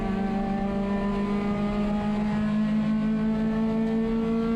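Race cars, a Mazda Miata and a Lotus, circle an oval track at a US touring car championship round, their engines giving a steady, loud harmonic drone with no break.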